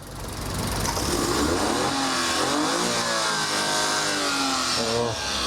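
Engine of a 4x4 tiptronic mini van revving close by, a loud, sustained mechanical roar whose pitch climbs and wavers over several seconds, heard with no talk.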